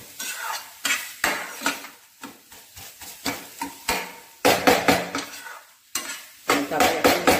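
A spatula stirs banana stem curry with coriander leaves in a pan, producing repeated close scraping and clattering strokes in uneven bursts over a light sizzle.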